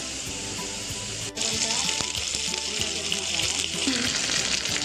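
Spices, turmeric and ginger-garlic paste sizzling in hot oil in a pan for egg curry, a steady loud hiss that swells after a brief clatter, with faint scraping and clinks underneath.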